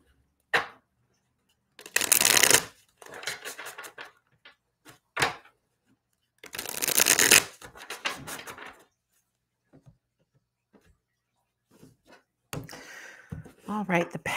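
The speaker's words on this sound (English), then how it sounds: "Let's give them a shuffle." A tarot card deck is shuffled by hand in short bursts of riffling and flapping, separated by quiet gaps, close up, with a few soft knocks and brief speech near the end.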